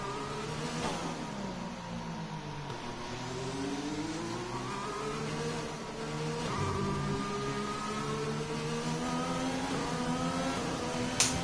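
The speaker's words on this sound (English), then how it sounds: "I'm having trouble hearing my engine over the fans, so I'm going to turn it up" Racing car engine from the F1 2020 video game at the French Grand Prix, a steady mid-pitched drone with rising and falling revs through gear changes, sustained and fairly loud throughout with no talking.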